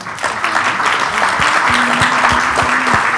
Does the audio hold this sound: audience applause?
yes